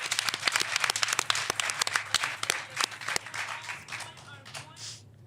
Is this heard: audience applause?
yes